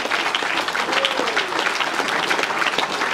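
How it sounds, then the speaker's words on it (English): Crowd at a comedy hypnotist show during a football club under-18s award evening bursts into lively applause, loud and continuous clapping with faint voices mixed underneath. "give a big round of applause"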